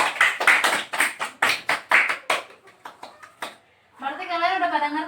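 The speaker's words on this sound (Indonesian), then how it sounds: "Tepuk tangan dong." Students clap in a classroom: a short run of sharp, rhythmic claps close by, thinning to scattered taps, then a voice speaks at the end.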